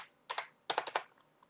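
Numbers typed on a computer keyboard: two quick keystrokes, a brief pause, then a rapid run of four or five close, crisp clicks in a quiet room.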